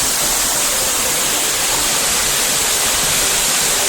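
Daranak Falls pours in a loud, constant broadband roar of falling water, dense and unbroken throughout with no voices.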